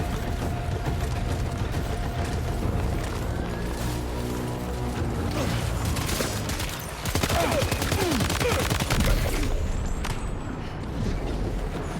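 Sniper gunfire in Death Stranding 2: dense bursts of sharp cracks and mechanical clatter that grow louder midway, over a steady background of game ambience.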